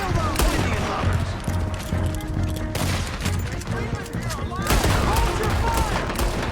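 Sustained gunfire from a Red Dead Redemption 2 shootout, dense volleys of rifle and pistol shots cracking repeatedly throughout, with shouted voices and game music underneath.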